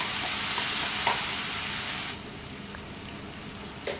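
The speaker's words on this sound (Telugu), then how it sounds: "ఇప్పుడు ఇందులో వన్ స్పూన్ అల్ల వెల్లుల్లి పేస్ట్ వేసి పచ్చివాసన పోయేంత వరకు ఫ్రై చేసుకోండి" Ginger garlic paste sizzles and fries steadily in a hot pan, a dense continuous hiss with occasional stirring scrapes; the sizzle drops noticeably quieter about halfway through and carries on without any talk.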